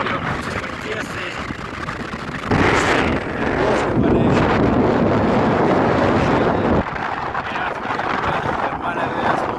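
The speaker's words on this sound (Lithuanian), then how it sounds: "ir mane vėjas papučkė" Wind gusts buffet the microphone outdoors on open water beside a small boat, a steady loud rumble that swells sharply in the middle and eases again toward the end.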